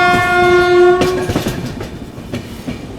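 A freight train passes Manak Nagar railway station, opening with a loud sustained horn blast before giving way to rumbling wagons and repeated clattering wheel clicks, close and unaccompanied by voices.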